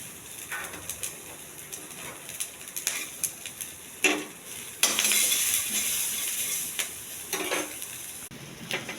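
Chopped onion pieces are dropped into hot oil with chana dal, mustard seeds and cumin, and the pan sizzles. A utensil scrapes and clinks against it in repeated stirring strokes, and a bird calls faintly in the background.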